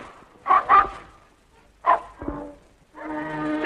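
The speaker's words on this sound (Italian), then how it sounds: "Questo povero cane ha dimenticato il proprio nome." A dog in an old 1939 Italian comedy film gives two quick loud barks, then a single bark after a pause, followed by a longer whining, tonal yelp.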